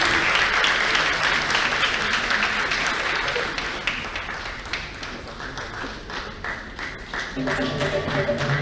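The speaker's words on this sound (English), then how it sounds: "Let's usher her in with a round of applause." An audience at a panel discussion at a health forum gives a round of applause, a dense, loud spell of many hands clapping that thins a little toward the end as a voice begins speaking.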